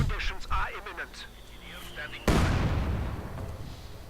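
Heavy mortar fire in a World War II strategy video game lands as one sharp, loud blast with a long rumbling decay, following a stretch of commentary talk and faint battlefield noise.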